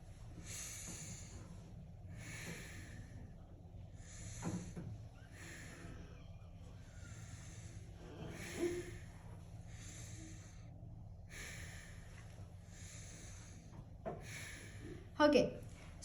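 Slow, deep breaths from a patient during a lung examination, each a soft airy inhale and exhale repeating at an even pace, faint and close, with a few small clicks and a brief bump near the end.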